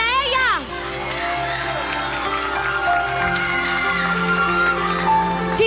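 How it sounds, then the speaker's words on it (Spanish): A crowd cheers and claps for contestant Ximena at a children's singing competition, steady loud whoops and shouts with applause throughout, voices mixed in. "un fuerte aplauso para ella"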